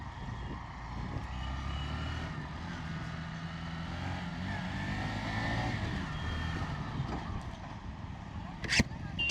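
A Honda Shine 100 OBD 2B, a light 100cc motorcycle, hums with a steady low engine drone on a test ride, with faint road and wind noise and a voice murmuring underneath.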